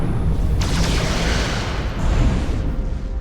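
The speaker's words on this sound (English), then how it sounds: "Fire photon torpedoes." Photon torpedoes fired and exploding in the Star Trek: Resurgence video game, a loud, continuous rumbling blast with deep booming low end and a sharp surge partway through, close and dense.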